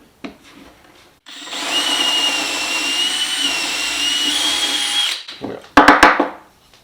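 A power drill whines steadily at high speed for about four seconds as it bores through hard, dense white oak, then cuts off, followed by a few sharp knocks.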